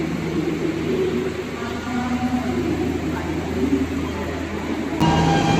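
A passenger train, number 2291, pulling in at platform 1 of a station, heard as a steady low rumble and wheel noise that grows louder near the end, with a crowd murmuring throughout.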